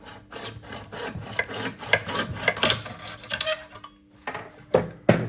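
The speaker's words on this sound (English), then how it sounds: "Okay, now I've cut both miters either end of the plastic" Close, uneven rasping and scraping as plastic mitre tile trim is cut, in short irregular strokes with a brief pause before a few sharper final cuts.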